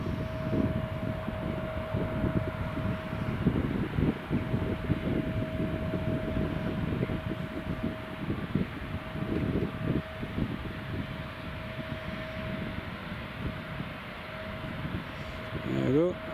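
A Loganair plane takes off from the runway with a sustained engine roar and a steady tonal whine, while a voice talks over the noise at times.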